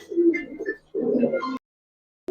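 Giribaz pigeons cooing close by in a few throaty bursts, the calls broken by a short silence before one more starts.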